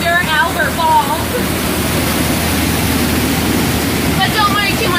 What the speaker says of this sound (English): Oh, this waterfall, this is Schweitzer Falls.